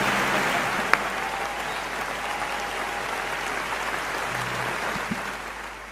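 Audience applause at a kavi sammelan welcoming a poet on stage, a broad steady wash of clapping from a large crowd, sustained and even with a few sharper claps standing out.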